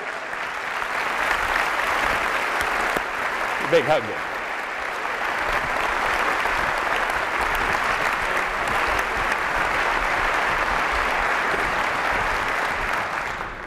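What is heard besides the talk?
audience applause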